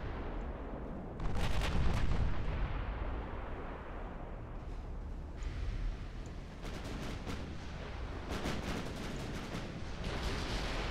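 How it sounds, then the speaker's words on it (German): Cruiser guns in the naval battle game Ultimate Admiral Dreadnoughts firing at destroyers, heard as repeated distant booming salvos over a steady rumbling sea-and-engine bed, with bursts clustered around the start and again near the end. "Kreuzer schießen auf die Zerstörer"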